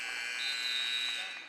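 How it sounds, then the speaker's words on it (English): A basketball game-end buzzer sounds as one steady, faint electronic tone, held for over a second at the close of a period in a preseason high school game. "Cash Hendrick scores ahead of the buzzer"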